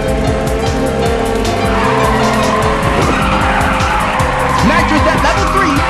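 Racing video game car drifting on Diablo Canyon Road with loud, continuous tire squeal over a roaring engine, pitch sliding as it slides sideways; a game announcer's voice talks over it.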